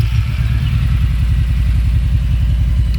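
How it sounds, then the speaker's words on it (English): A Kawasaki cruiser motorcycle (Voyager, Vaquero or Nomad) fitted with a big air intake kit runs with a loud, close, deep rumbling engine note, steady and pulsing. "Let's go ahead and start it and let you hear this big air kit"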